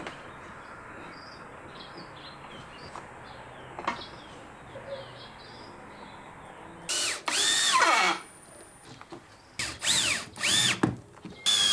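A power drill drives screws to join plywood pieces, with a few short whirring bursts near the end against a faint steady background hum and insect-like chirps.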